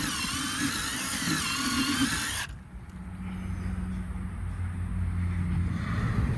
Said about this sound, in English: getting this last hole drilled here